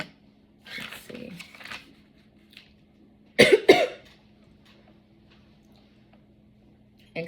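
A short, sharp throat clearing breaks a mostly quiet room, preceded by faint rustling and a soft hum.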